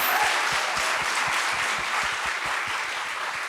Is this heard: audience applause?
yes